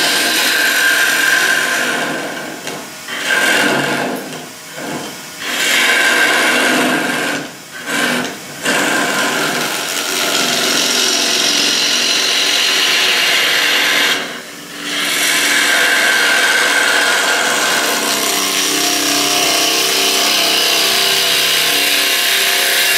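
A woodturning tool cuts a spinning natural edge laburnum wood vessel on a lathe, a loud, close, continuous rasping scrape with brief gaps where the tool lifts off, then a long steady cut to the end.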